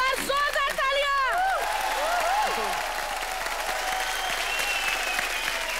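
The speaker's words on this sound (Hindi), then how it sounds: "एक बार जोरदार तालियां।" Studio audience at a Hindi TV comedy show breaks into loud, sustained applause, with whoops and raised voices over the clapping at the start before it settles into steady crowd clapping.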